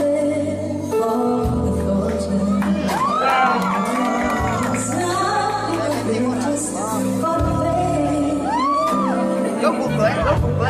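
A concert crowd cheers and whoops loudly through a live duet, with sung vocal lines running over the continuous roar of the audience.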